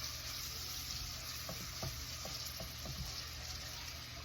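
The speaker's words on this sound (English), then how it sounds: "So we just let the onions cook." Onions frying in a pan for a quick cabbage recipe, a steady, dense sizzle with a few soft stirring knocks partway through and no talking.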